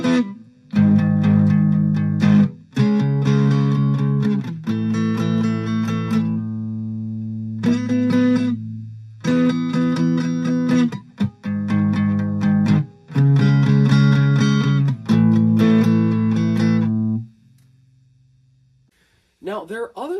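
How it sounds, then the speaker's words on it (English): An electric guitar played on the neck pickup through a Blues Driver pedal set to about half gain gives a creamy, transparent overdrive, with sustained chords and riffs in phrases separated by short pauses, ending on a fading note. "for that creamy, transparent overdrive, you need a neck pickup and setting the gain to about half"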